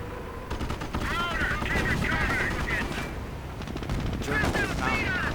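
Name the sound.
Sherman tank firing at Puma, video game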